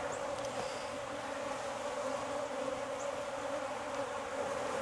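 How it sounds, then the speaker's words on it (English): Bees swarm in a nucleus hive opened during a mite resistance test in Jacksonville, Florida, making a steady, dense buzzing hum that stays continuous and close throughout. "Lots of bees in this nuke."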